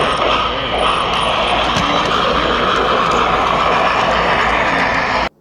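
A steady mechanical rumble of a model train running along its track at the York train show, continuous and fairly loud, then cutting off abruptly.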